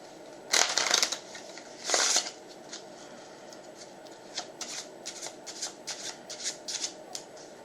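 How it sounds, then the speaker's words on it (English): A deck of playing cards is riffle-shuffled up close in two loud bursts, followed by a series of softer, quick card flicks and taps. "shuffle the cards to mix it up even more"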